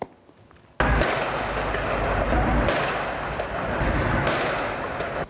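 Firecrackers bursting on a weekday afternoon at the Pordenone bus station as teenage gangs clash, a sudden loud blast followed by sustained crackling, rumbling noise with further sharp bangs, close and dense.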